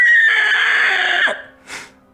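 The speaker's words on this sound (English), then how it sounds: "I recalled that ear-piercing screech." A loud, piercing screech rings out for over a second, then a brief, fainter squawk follows after a short gap.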